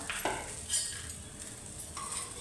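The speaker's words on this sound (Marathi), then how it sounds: "आता हे दुसऱ्या बाजूने परतवून घ्यायचं" Roasted peanut and coconut masala is stir-fried and turned in a pan, giving a soft, close scraping and faint sizzle with a couple of brief clinks of the spoon, no talk.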